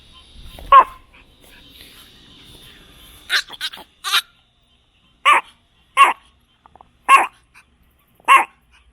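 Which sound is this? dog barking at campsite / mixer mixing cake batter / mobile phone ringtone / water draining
dog barking at campsite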